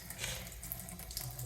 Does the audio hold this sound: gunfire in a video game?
no